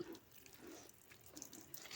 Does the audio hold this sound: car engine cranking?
no